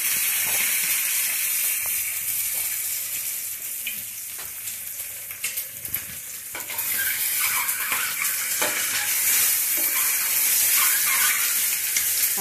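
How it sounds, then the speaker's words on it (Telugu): Eggs fry in oil with turmeric over a medium flame, giving a steady, close bright sizzle with scattered crackles and occasional soft clinks of stirring, with no voices. "దాంట్లో ఈ ఎగ్స్ వేసి మీడియం ఫ్లేమ్లో బాగా ఫ్రై అయ్యేటట్టు చేసుకోవాలి"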